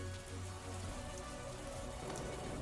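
Steady rain falls in a dense, even hiss with no pauses, and a faint low hum sits underneath during the first second.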